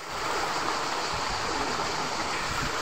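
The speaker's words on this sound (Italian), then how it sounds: "Qui siamo arrivati alla cascata" Steady, continuous rush of falling water at an underground waterfall beneath Rome, a broad even roar filling the space with no voices over it.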